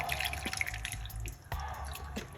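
A homemade drink of parsley, lemon, lime and green tea is poured off, giving close, quiet liquid trickling and dripping with small splashes.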